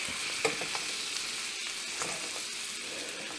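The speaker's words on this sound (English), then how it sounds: "start basting this steak with some butter on" A bone-in ribeye steak sizzles loudly in a pan as melted, nutty browned butter is basted over it, a dense continuous crackle with a few sharper pops and spoon clinks up close.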